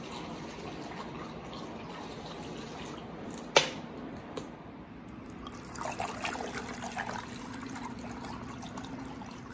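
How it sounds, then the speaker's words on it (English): Cold water poured into a homebrew beer batch to bring it to five gallons, a quiet continuous trickle and splash with one sharp knock near the middle and livelier sloshing toward the end. "cold water's going in until we have 5 gallons total"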